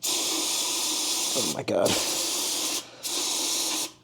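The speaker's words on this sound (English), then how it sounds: "Hit the brake clean on here, really good, okay?" Aerosol brake cleaner sprays in strong hissing bursts onto a heating furnace's nozzle and electrodes, close and loud, with two brief pauses; a voice exclaims over it.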